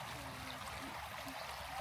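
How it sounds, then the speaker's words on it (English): A quiet little stream flows at a campsite in Charles Lindbergh State Park, giving a soft, steady trickle and gentle water murmur, faint and unbroken, with no talk over it. "Nice quiet little stream."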